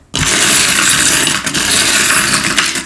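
A handful of small trinkets and odds and ends rattling and clinking in a charm bowl, a loud, close, continuous jangle of metal and glass bits lasting a few seconds with a brief dip midway.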